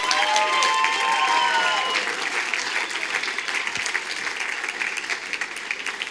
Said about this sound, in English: Let's give a big round of applause for the incredible show tonight